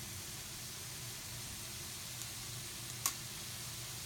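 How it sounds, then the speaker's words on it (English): Borscht vegetables sauté quietly in a pan with cumin, giving a faint, even hiss of sizzling and one brief tick near the end, with no voices. "Okay, so it's been sauteing for a little while, still not ready yet"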